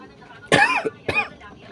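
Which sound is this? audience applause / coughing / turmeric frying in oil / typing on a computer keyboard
coughing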